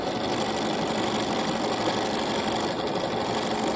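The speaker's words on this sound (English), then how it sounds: "I'm going to just zig on and zag off. And it will seal up that seam nicely." A sewing machine runs zigzag stitching along a seam in t-shirt fabric, making a steady, close mechanical whir with a rapid needle rhythm for the whole stretch.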